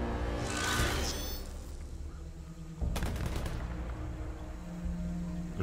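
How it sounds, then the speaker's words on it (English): Gunfire in the video game Predator Hunting Grounds, a faint burst of rapid shots from a distance heard over steady game ambience and a low background hum. "They're shooting something."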